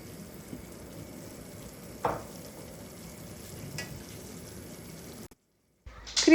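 Cooked fettuccine and shrimp with parmesan cheese sizzle in a frying pan while being stirred. A steady close fry hiss is broken by a couple of sharp utensil scrapes, then the sound cuts out briefly.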